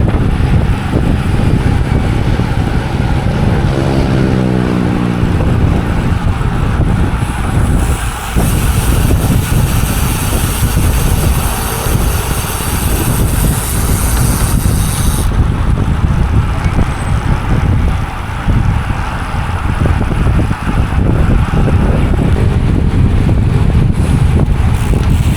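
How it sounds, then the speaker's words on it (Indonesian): Strong, sustained wind buffeting a microphone during a race ride, a heavy roaring rumble that fills the whole clip with constant gusting noise and no clear voices. "anginnya kenceng banget"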